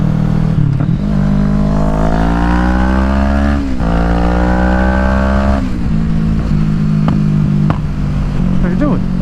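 Motorcycles riding in heavy traffic in Spokane, a loud nearby engine revving up and holding steady with rising pitch sweeps, a brief drop, then more engine drone, with other bikes around.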